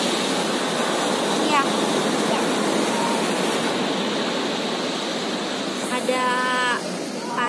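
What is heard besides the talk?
ocean waves on the beach at Pelabuhan Ratu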